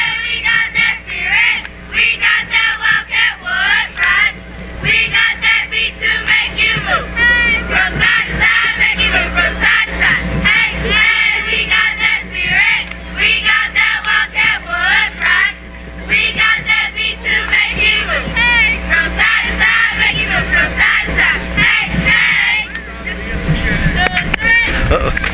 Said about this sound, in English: They're going to stop and do a cheer for us